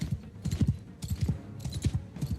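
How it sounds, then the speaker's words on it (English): Horse hooves clip-clopping in a medieval-style video game, a close, steady rhythm of paired hoofbeats repeating in quick clusters, loud and alone without talk. "This horse is slow as shit, but it is better than nothing."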